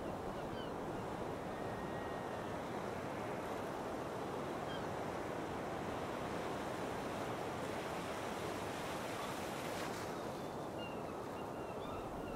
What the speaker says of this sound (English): just the sound of the seagulls and the waves